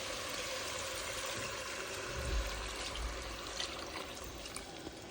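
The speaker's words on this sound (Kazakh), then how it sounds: "мен суды көз мөлшерінде ғана қосып жатырмын" Water is poured into a cooking pot of Kazakh shashpa pilaf, a soft, quiet continuous trickle and splash with a slightly heavier gush midway, heard alone.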